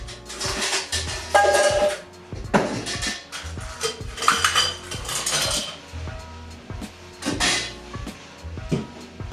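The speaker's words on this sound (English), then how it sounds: "first get your tin shaker and put some ice" Ice dropped into a tin cocktail shaker, a series of clattering metallic clinks and rattles in irregular bursts, close and fairly loud.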